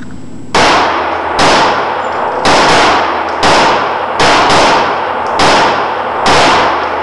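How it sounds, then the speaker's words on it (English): A Makarov pistol fires about eight loud, close shots into a target at a fairly steady pace, each a sharp crack with a ringing tail. "we're going to fire into the target and then assess the shots"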